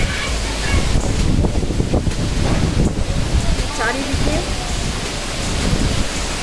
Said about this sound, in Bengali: কিরকম ঝোড়ো হাওয়া দিচ্ছে দেখছো তোমরা?